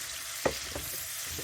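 Onions sweating in a pot for tomato soup give a soft, steady sizzle, with one brief clink near the start.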